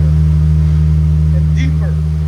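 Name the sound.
Jaguar F-Pace 3.0L supercharged V6 exhaust with ultra quiet mufflers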